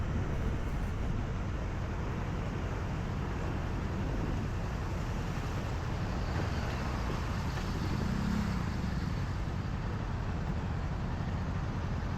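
A car drives along a road in Pattaya, a low, faint, steady rumble of engine and tyre noise with a broadband wash, unchanging and without distinct events.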